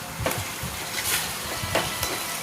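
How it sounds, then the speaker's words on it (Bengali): Potatoes sizzle in a chicken curry pan while being stirred, a soft steady frying hiss broken by a few short scraping stirs, close and without voices. "একটু আলুটা দেওয়ার পরে একটু নাড়াচাড়া করে নিচ্ছি।"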